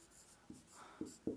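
A pen writes Hindi text in a few short, soft scratching strokes, ending with a light tap on the surface, quiet and close.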